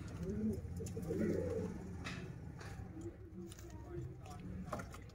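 Sialkoti rooftop pigeons, a breeder pair, coo in soft repeated throaty phrases close by, while someone talks over them and faint handling noises come through.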